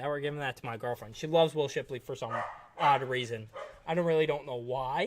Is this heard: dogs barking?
yes